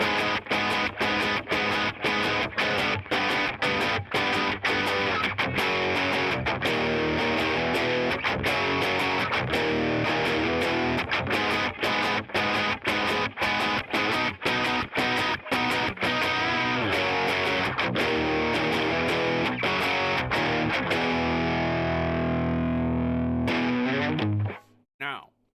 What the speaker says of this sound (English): let's play that bridge riff through once at full speed